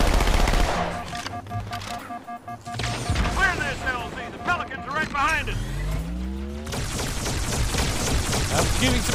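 Gunfire in the Halo 2 video game, a busy mix of repeated shots and bursts layered with vehicle engine noise and game effects, loud and continuous throughout with a brief lull early on.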